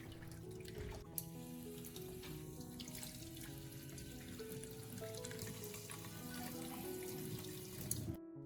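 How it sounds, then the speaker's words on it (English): Steady cold water from a tap pours continuously over broccoli being rinsed, with a hollow splashing over a constant background hum. "rinse the broccoli thoroughly under cold running water to remove any remaining salt and impurities."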